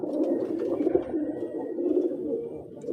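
Pigeons in a pigeon house coo softly in a low, steady murmur that carries on throughout, with no talking over it.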